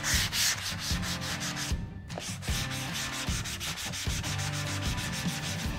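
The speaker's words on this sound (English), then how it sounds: "use this flat sander here just to get a little bit of the detail work done on the tops of the letters" A flat sander works over HDU foam sign letters with a continuous rasping rub in steady back-and-forth strokes, close and fairly loud, briefly easing off once before carrying on, with no talking.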